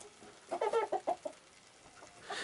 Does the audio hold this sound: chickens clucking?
yes